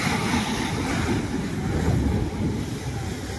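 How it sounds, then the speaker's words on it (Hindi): Sea waves breaking at a port on the coast, a loud continuous rushing surf roar with wind-like broadband noise, steady throughout with no speech. "कि जोर लहड़ी मारुच"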